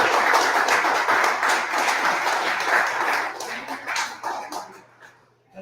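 Crowd in an Irish pub during a live fan show applauding, steady close clapping with some cheering that gradually tapers and dies out toward the end.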